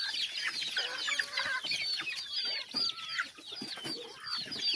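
A flock of chickens clucks and chatters continuously, many overlapping close calls with no talking.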